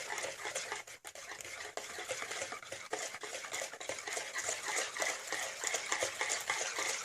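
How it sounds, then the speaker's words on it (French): Rhubarb tart batter being beaten in a bowl, a steady, busy scraping and whisking texture that runs continuously and fairly close, with brief dips but no pauses and no voices. "Donc vous battez le mélange."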